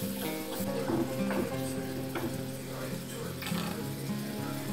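Minced beef is stirred and mixed with sauce in a pan: a soft sizzle runs throughout, with repeated scraping strokes of a utensil, and a voice speaks quietly underneath.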